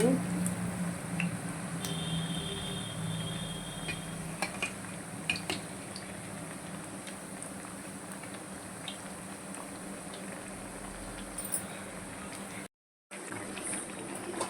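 Black-eyed pea vadas frying in hot oil, a steady soft sizzle and bubbling that continues throughout, with occasional light clinks of a utensil, faint and close, briefly cutting out near the end.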